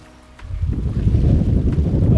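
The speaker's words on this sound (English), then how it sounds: "I won't talk as much until I get there because it's so windy." Strong gusting seafront wind in Anilao, Batangas roars and buffets against the microphone, a heavy low rumble that swells after a brief quiet moment and stays loud.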